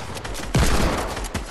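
Shotgun blasts in the video game Fortnite, one loud close boom followed by a second, softer shot about a second later, with no voices.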